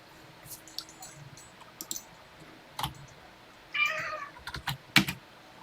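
A small female cat meows once, close by, amid scattered clicks and computer keyboard typing in a quiet room; no talking.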